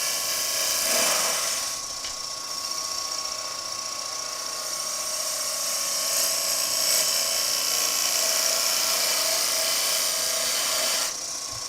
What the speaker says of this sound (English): So let's go with our small bowl gouge.